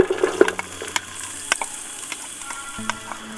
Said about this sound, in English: We're going to start with a couple of tablespoons of olive oil and then we'll sweat off the onions and garlic.